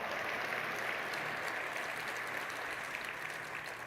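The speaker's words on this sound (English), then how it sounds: "Big applause, guys." A conference crowd at 3DEXPERIENCE World 2025, the SOLIDWORKS user event, claps in a steady, dense burst of applause lasting a few seconds, heard at moderate level with no talking over it.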